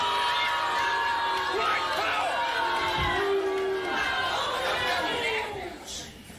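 A large crowd at a staged event cheers, chatters and laughs in a continuous loud wash that fades slightly at the end, with a voice reacting briefly over it.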